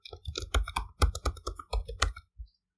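Computer keyboard being typed on to enter a repository password, a quick close run of about a dozen crisp key clicks lasting two seconds, then stopping.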